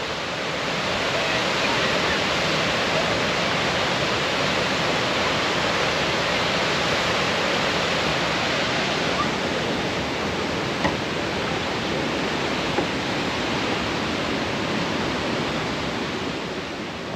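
A roaring waterfall at a Lake Michigan area stop throws up mist, its dense, even roar filling the whole stretch loudly and steadily, with no break or change.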